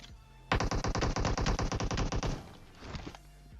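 A loud, rapid burst of automatic gunfire in the mobile battle royale game PUBG Mobile, about twenty close shots in quick succession, followed by a short fainter volley.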